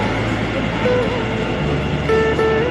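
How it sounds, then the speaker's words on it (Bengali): A Kolkata underwater-line metro train hums at a platform with a low steady drone and brief electronic tones, amid station background noise. "অলরেডি মেট্রো ঢুকে গেছে প্ল্যাটফর্মের মধ্যে"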